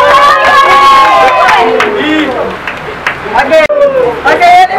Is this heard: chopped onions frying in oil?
no